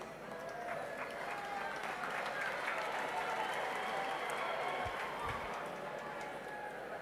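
Graduates at a university graduation ceremony applaud in a large hall, a continuous wash of crowd clapping heard at a moderate distance.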